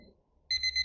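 A timer alarm goes off abruptly halfway through, a steady loud electronic beeping tone that holds to the end after near silence.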